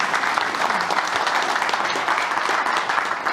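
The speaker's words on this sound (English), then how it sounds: "Everybody please give a round of applause for Bronagh" An audience applauds at the close of a morning session of an audit committee briefing, sustained loud clapping throughout with a faint crowd murmur underneath.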